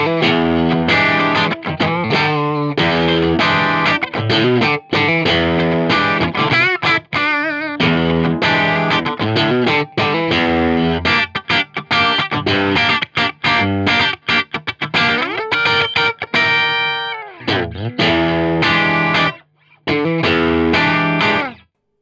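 Electric guitar played through the preamp of an original Boss CE-1 chorus unit with the Empyrean preamp bypassed, a dense, driven and slightly distorted tone with chorus shimmer, strummed chords and riffs running steadily and loud with no talking.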